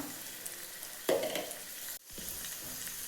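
Chopped onions sizzling steadily in a pan as ground coriander is added and stirred in, with a louder burst of frying and scraping partway through and no talking.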